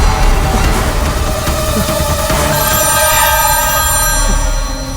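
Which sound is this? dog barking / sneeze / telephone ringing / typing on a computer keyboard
telephone ringing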